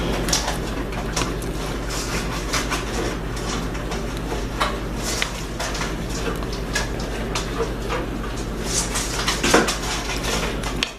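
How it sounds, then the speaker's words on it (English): Chops being stirred in a pan with crispy burnt bits: continuous close scraping and clinking of a utensil against the metal pan over a steady hum, with scattered sharper knocks. "just want to stir in those burn parts now"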